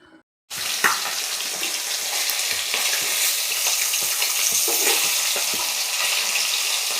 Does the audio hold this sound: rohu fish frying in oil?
yes